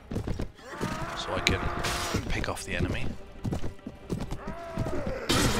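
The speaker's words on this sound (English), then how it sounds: "So what I really need to do is just try and take out their horses" Horses in a medieval battle video game gallop with steady clip-clop hoofbeats and an occasional whinny, busy and mid-distance beneath someone talking over the action.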